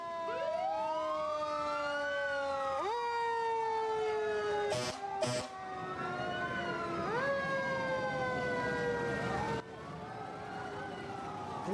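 Police car and fire truck sirens wail together in a continuous escort, overlapping rising and falling tones sweeping back and forth, with a couple of short horn blasts cutting through midway.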